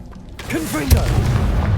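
A Confringo blasting spell explodes in the video game Hogwarts Legacy: one loud, deep boom lands about halfway through, after a character's voice calls out the spell, followed by a rumbling tail.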